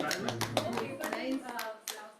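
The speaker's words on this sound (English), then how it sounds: "big round of applause to Basu" A small group at a teachers' glorification gathering claps for a few seconds, giving a run of crisp, fairly close hand claps mixed with overlapping voices, then a few last scattered claps.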